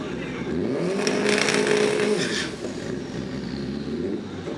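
The Copper 8 drag racing car's engine roars loudly, then fades as it pulls away, with an announcer talking over it.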